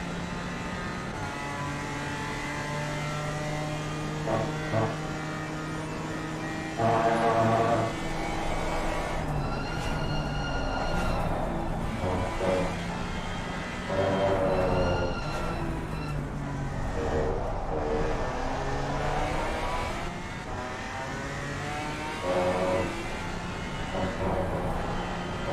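A BMW M4 GT4 race car engine in a PC racing game at Misano roars and revs steadily, rising and falling in pitch as it shifts through gears, loud and close throughout.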